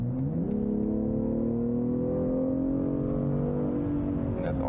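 A BMW M340i, the 3-Series M Performance model, accelerates hard on a motorway to overtake a truck, its engine note climbing steadily and loud and close throughout, with a faint bit of talk over it.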